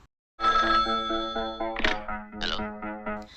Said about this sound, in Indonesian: Saat telepon berdering, Pradhan dan Ajay mengangkatnya bersamaan